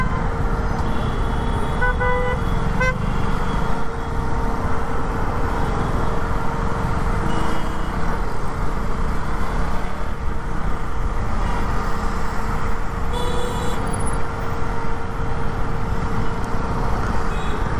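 Busy road traffic heard from a motorcycle ride on a KTM Duke 200: a steady engine and road rumble with several car horns honking, including short toots near the start and a clearer honk later. No one speaks.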